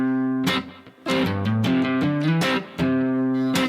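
Distorted electric guitar plays a quick series of note fills and slides, with brief pauses between phrases, loud and close.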